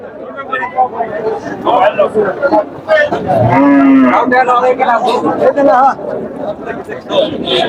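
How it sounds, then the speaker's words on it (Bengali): Sahiwal cattle moo loudly at a busy cattle market in Harogaj, Manikganj, with one long low call standing out near the middle amid constant crowd chatter and people talking close by. "শাহিওয়াল জাতের খুব সুন্দর একটি গরু।"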